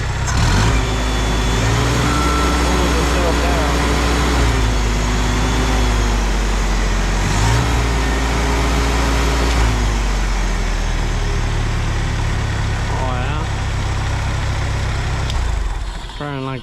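Old Cub Cadet lawn tractor engine, a governed unit, running loud and steady with its pitch rising and falling as the throttle is opened and eased, while someone talks over it.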